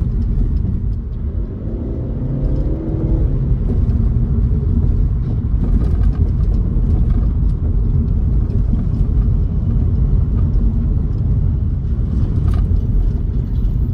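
A Caoa Chery Arrizo 6 sedan driving on a road, its steady engine and road rumble filling the cabin loudly and continuously, with a slight rise in engine tone early on.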